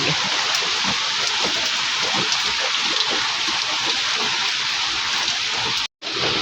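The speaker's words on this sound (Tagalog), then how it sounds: "ito nga po talagang patuloy po yung ulan" Heavy, steady typhoon rain pours down without letup over a flooded street, a dense broadband wash with scattered drips, briefly cutting out near the end.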